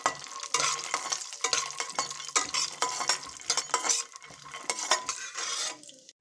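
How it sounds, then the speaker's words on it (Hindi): Almonds frying in a spoonful of ghee in a pan, crackling sizzle broken by repeated scraping and clinking of a spoon stirring, close and moderately quiet, ending abruptly, no voices. "अब हमने एक चम्मच घी डाल के बादाम, इनको भी हमने फ्राई कर लेना है।"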